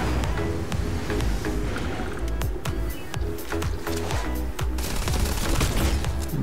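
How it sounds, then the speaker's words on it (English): A particle beam shotgun in Starfield fires in a rapid run of heavy, punchy blasts over a dense, constant rumble of combat, loud and close throughout. "One thing I will say about the particle beam shotgun is that it does pack a wallop"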